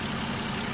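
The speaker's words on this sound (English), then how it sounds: "this is what it sounds like under the hood" A 2015 Nissan Frontier crew cab with a 4.0L V6 idles under the open hood: a steady, even engine hum with a low rumble, heard close up and without a break for the whole short moment.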